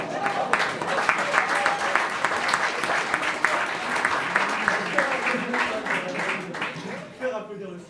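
Applause from a live comedy-show audience, a dense steady patter of many hands filling the room for several seconds, with laughing and cheering voices mixed in before it tapers off near the end.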